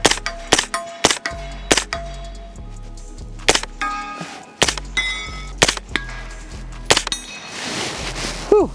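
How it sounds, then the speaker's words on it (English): Rix Tactical RNV-31 pistol fired repeatedly at a steel target outdoors, giving a string of sharp cracks at irregular intervals, each followed by a ringing metallic clang from the struck plate. "I like shooting this gun"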